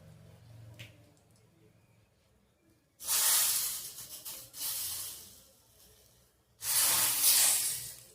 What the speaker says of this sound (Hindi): लगाऊंगी इसमें देखो थोड़ा सा देसी घी का तड़का